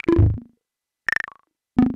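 Fred's Lab Manatee synthesizer playing a third patch with a random arpeggiator: three separate short bursts of synth notes with gaps between them, one a fast pulsing tone that drops to a lower held note. Moderately loud, with no talking.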